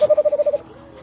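A man whistles an imitation of the kukulok bird's call, a run of about seven quick, evenly pulsed tonal hoots at close range lasting half a second, then fading into quiet room sound.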